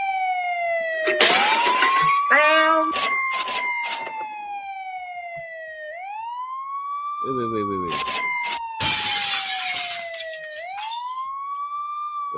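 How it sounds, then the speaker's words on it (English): A wailing emergency siren plays as a song sound, its pitch sweeping up and down in long cycles with bursts of clatter and noise, loud and close, and a voice speaks briefly. "Why is my siren song still going?"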